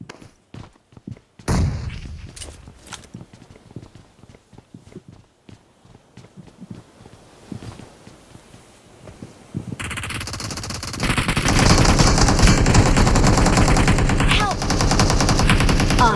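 Bursts of automatic gunfire from a battle royale shooter game, starting sparse with scattered shots and footsteps, then building into sustained, loud, continuous rapid fire in the second half.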